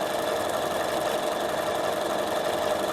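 A Bernina sewing machine running fast, a steady close whirring hum with an even mechanical rhythm that holds constant throughout.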